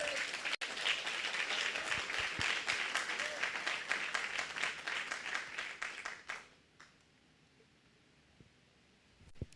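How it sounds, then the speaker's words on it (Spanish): A church congregation breaks into loud, dense clapping, rhythmic and sustained for about six seconds, then stops abruptly, leaving quiet room tone with a few stray claps near the end. "Un aplauso al Señor."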